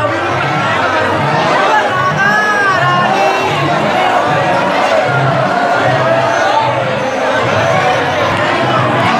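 A large, loud crowd at the Janmashtami festival in Nandgaon fills the air with dense, continuous chatter and shouting, a constant roar of many voices close around.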